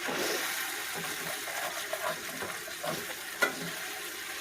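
Steady sizzling and crackling of food frying in a pan, with a few sharper pops and a brief louder spit near the end, no talking.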